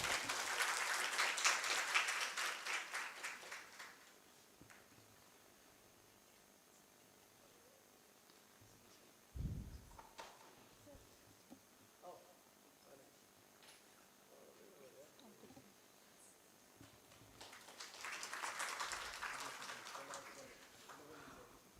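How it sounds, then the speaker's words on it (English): An audience applauds at a science academy's annual conference session, with loud clapping for several seconds, then a quiet stretch with a brief bump and small noises, and a second burst of clapping near the end. "Can I have a big round of applause, please?"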